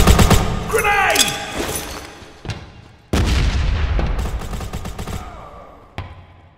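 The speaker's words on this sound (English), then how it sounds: "Grenade out!" Grenade explosion and gunfire in a video game, with loud booming blasts and crackling shots in two heavy bursts, a whistling effect early on, and the rumble decaying between them.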